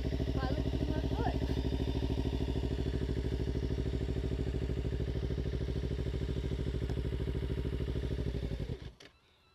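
A motorbike engine running steadily for several seconds, a dense mid-pitched droning growl that holds fairly level before cutting off abruptly near the end, close and loud.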